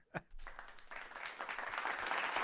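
Applause sound effect played back during a podcast recap, a dense wash of clapping that builds steadily and stays loud, with a brief burst of voice at the start.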